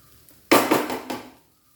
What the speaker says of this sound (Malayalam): ഇളക്കി കൊടുക്കാം നമുക്ക്.